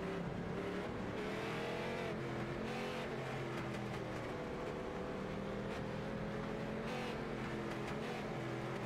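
Race cars running a heat race, a steady loud drone of engines with shifting pitch as the field circulates, several cars overlapping, with no talk.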